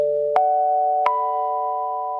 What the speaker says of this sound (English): Thomas's phone rings